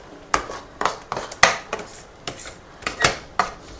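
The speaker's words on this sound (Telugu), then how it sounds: "ఇవి బాగా మిక్స్ చేసుకుందాం." Spice powders, including coriander powder, mixed in a pan over a medium flame, heard as sharp, irregular clinks and scrapes of a utensil against metal, about a dozen strokes up close.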